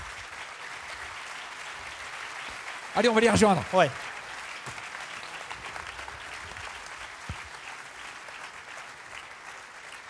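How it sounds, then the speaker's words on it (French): An audience applauds administrators who have stood up at a conference closing event, a steady bed of clapping with a brief louder burst of cheering voices partway through. "Levez-vous et on vous applaudit."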